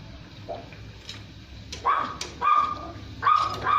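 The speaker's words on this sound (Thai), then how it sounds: "ปอกกีนี่แม่นเห่าโหลดดิ ตกใจ" A dog barks in a few short, sharp bursts at moderate distance during the second half, with quieter room noise between them and no clear talk.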